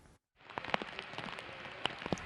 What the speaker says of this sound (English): As the rain pours in Venezuela